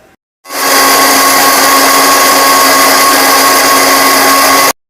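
Mixer grinder blending peeled radish pieces cut small for juice: a steady, loud motor whir starts after a brief quiet moment and runs continuously for about four seconds before cutting off.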